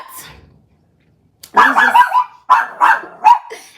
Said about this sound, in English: every car that drives by, he's barking.